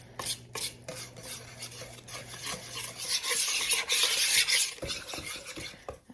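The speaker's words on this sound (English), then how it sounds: "we're going to mix this together" A spoon scrapes and stirs a thick sourdough discard muffin batter with flour in a bowl, with close, uneven rubbing and scraping strokes that grow louder and wetter midway.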